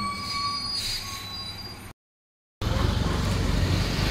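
A train rolls along a rail line with a continuous rumble and high metallic wheel squeal, cut by a brief gap of silence before the heavy rolling noise resumes louder and closer.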